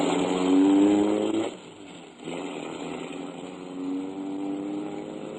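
A car engine revs hard, then briefly drops away before settling into a steady mid-pitched drone, sounding like a motor driving along a road, heard alone without any voices.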